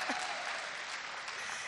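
A church congregation applauding, with a steady, faint, distant wash of many hands clapping that continues without a break.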